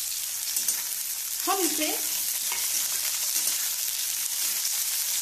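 Onions and capsicum fry briefly in a pan for white sauce pasta, giving a steady close sizzle with a few stirring scrapes. A voice speaks a couple of words partway through.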